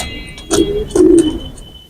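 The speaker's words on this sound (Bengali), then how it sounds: "একটি রামপুরি কবুতর এবং একটি ভুচাল কবুতর" A male Bhuchal pigeon and a female Rampuri pigeon give two short, close, loud coos in quick succession, with no speech.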